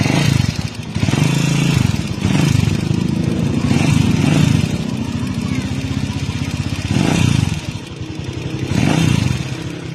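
A Rusi 125 motorcycle engine with a timing gear problem runs steadily and loudly nearby, with a rough mechanical clatter and slight swells in revs.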